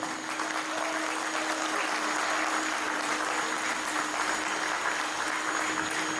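An audience gives steady, sustained applause for a cricket academy team at a cricket store event, a dense wash of many hands clapping at a distance with little talk.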